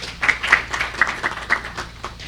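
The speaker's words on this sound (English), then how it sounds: "Please, Mr. Zakari, welcome, and a big applause for you." Applause for a panel speaker at an anti-corruption event, a short burst of scattered clapping from a small audience, moderately loud and uneven, with no talk over it.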